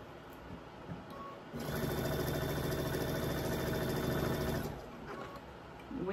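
Sewing machine chain piecing a Virginia floral state quilt block, running in one steady, continuous mechanical whir for about three seconds after a quieter start, then slowing and stopping.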